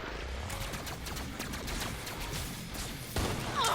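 Rapid, fairly faint gunfire crackles in a shooter video game as a dense string of shots, ending in a slightly louder burst.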